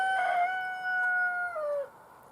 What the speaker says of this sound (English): That rooster, kind of like roosters.